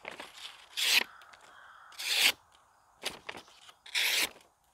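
An SRM tactical EDC knife slices through paper in four separate strokes, each a short crisp hiss of cutting, close and fairly quiet, with near silence between them.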